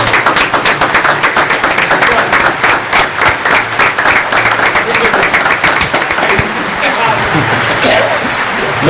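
Loud, dense clapping from an audience applauding a champion and runner-up at a motorsport event, a steady patter close by with some voices mixed in, thinning slightly near the end.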